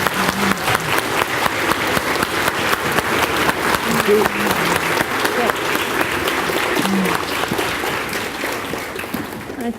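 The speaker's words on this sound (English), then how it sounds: "Let's give a round of applause for our author this morning" A large audience of schoolchildren applauds a visiting author at a morning reading and writing event, with loud, sustained clapping filling the hall and a few voices calling out faintly underneath.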